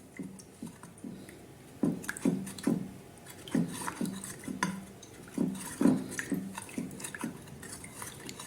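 Molasses (pekmez) is stirred into a small tea glass of water, heard as rhythmic close clinks and swirls of a spoon against glass, soft and repeated throughout.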